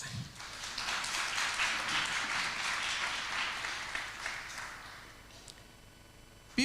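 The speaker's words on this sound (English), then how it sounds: "So give her a round of applause." An audience at a campus health event applauds with a broad wash of clapping that swells and then fades out gradually, heard from some distance.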